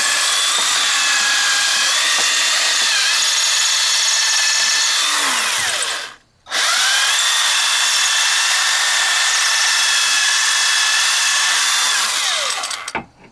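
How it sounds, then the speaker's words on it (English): A power drill bores out a broken battery cable terminal with a loud, steady high whine that stops briefly once and then resumes, close and alone. "now I'll take my drill bit, go in here, kind of drill this out."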